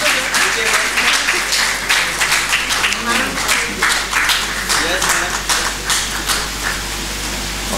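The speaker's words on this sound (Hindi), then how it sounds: "जोरदार तालियों से आप उनका अभिनंदन करें।" Applause from an audience at a Hindi literary award ceremony, sustained dense clapping with a steady hum beneath, while a voice talks over it.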